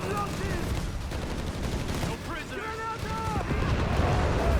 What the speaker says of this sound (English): Grenades being chucked over the Bessieri.